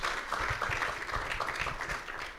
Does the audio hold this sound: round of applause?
yes